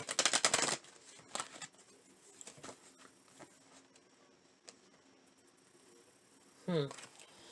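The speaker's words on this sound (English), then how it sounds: "Let me try shuffling that again." Tarot cards shuffled by hand in two short bursts, a loud riffle at the start and another near the end, with quiet handling and faint movement between them.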